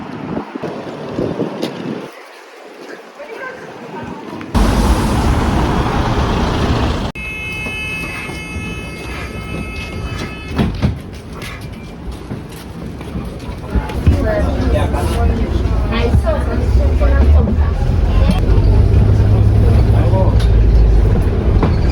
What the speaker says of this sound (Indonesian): Sekarang kita sudah berada di dalam bus.